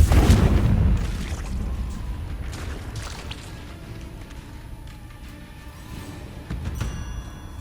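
A Confringo explosion spell in a Harry Potter video game goes off with a single heavy boom at the start, then a long rumbling decay, with a smaller thump later on and no voices.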